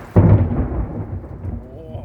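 Thunder during a rainstorm: a sudden loud, close crack that rolls into a long deep rumble and slowly fades, with rain hiss underneath and faint voices at the end.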